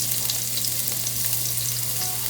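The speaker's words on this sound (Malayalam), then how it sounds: "നന്നായിട്ട് അതിൻ്റെ ഒരു റോ സ്മെല്ല് മാറുന്നത് വരെ ഒന്ന് ഇങ്ങനെ സോട്ട് ചെയ്ത് കൊടുക്കാം" Finely chopped ginger and garlic sizzle and fry steadily in a pan for a Kerala-style vegetable kurma, with soft stirring scrapes over a constant hiss.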